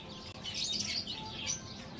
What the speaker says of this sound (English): The chirping of different types of birds was lovely.